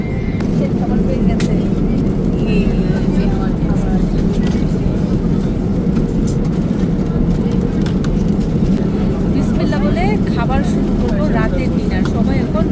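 Steady roar of an airplane cabin on a flight from Saudi Arabia to Bangladesh, a constant engine drone underneath with people talking over it.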